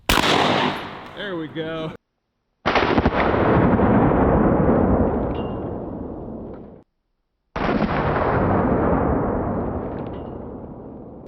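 Two loud, booming blasts from a double-barrel shotgun, each fired with both barrels at once, ring out several seconds apart with long echoing tails outdoors. Someone speaks briefly before the first shot.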